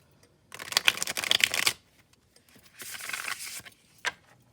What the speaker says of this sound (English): I'm going to do one more shuffle on the table